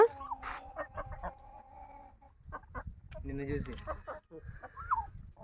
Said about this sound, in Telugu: మన కోళ్ళు చూడండి ఎట్లున్నాయి